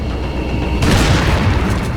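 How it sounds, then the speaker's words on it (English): A heavy, booming dynamite blast in Resident Evil 4 bursts in suddenly after a quieter moment, then rumbles on loudly with a broad roar. "I hit his dynamite mid-shot, but that didn't kill him."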